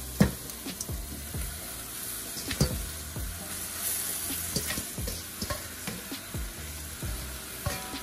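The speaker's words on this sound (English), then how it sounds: "now I'm gonna add the ground beef to my pot" Ground beef hitting a hot pot for Jamaican beef patties: a steady sizzle and frying hiss with scattered clinks and stirring scrapes, close and unvoiced.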